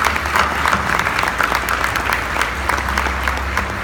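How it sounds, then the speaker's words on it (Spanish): Conference attendees at a CIO and IT event applaud the panelists, a steady patter of many hands clapping over a low, rumbling room hum. "Un aplauso para ellos, por favor."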